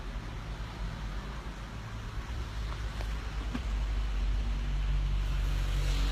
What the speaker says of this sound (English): the sergeant pulling up beside me now